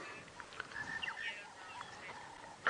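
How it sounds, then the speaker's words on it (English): A small quail calls during a sunrise safari drive through the bush; thin, high chirping notes come in a loose series over a quiet, hissy background, fairly faint and with no talk. "So these little curricane quails"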